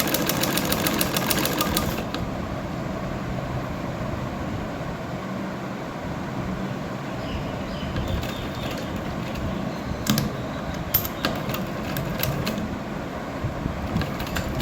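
Sewing machine running continuously while stitching a sleeve seam on a garment, a steady close mechanical whir with small clicks and bumps, no talking.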